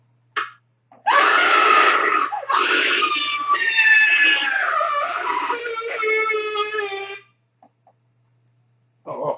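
A long, loud scream with wavering pitch, breaking briefly and then continuing for several seconds before cutting off into quiet.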